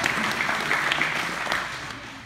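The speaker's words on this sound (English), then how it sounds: "How about a round of applause," Audience applause at a school after-prom show, a steady wash of clapping and crowd noise lasting the whole short stretch at moderate loudness.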